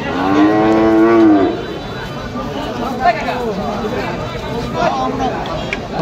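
A cow at a livestock market in Singair, Manikganj gives a long, loud moo near the start, followed by the general bustle and crowd noise of the busy cattle haat.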